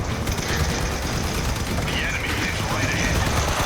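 Gunfire rattles in the vehicle combat game Crossout, a dense steady burst of shots and clatter running throughout at a loud level, with a voice talking over it.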